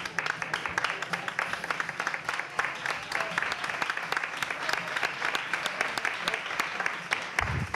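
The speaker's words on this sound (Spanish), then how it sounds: "vamos a levantarnos y vamos a aplaudirles nosotros porque se lo merecen" An audience at a motorcycle event in Jerez applauds guests, many hands clapping in dense, steady, close applause for the whole stretch, with faint voices mixed in beneath.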